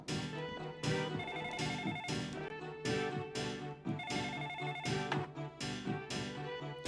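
A telephone rings in a video game, a steady repeating electronic trill pattern mixed with game music and background sounds, fairly loud and continuous without talking.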